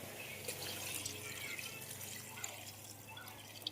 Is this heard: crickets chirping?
no